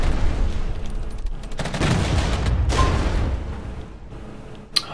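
Massed musket volleys from soldiers opening fire in the video game Regiments, a dense crackling fusillade rolling on continuously with heavy booms, ending in one sharp close shot.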